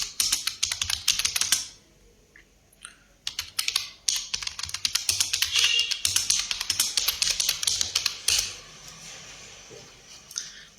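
Rapid clicking of a computer keyboard as a search is typed into YouTube, dense bursts of close keystrokes with a short pause partway through, then steady typing again.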